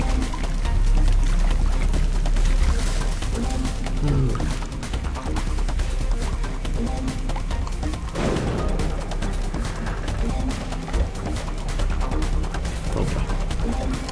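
Water flowing and pouring in the physics puzzle game Puddle, a steady splashing liquid rush with crashing bursts that runs loud through the whole stretch over game music, with a voice talking over it.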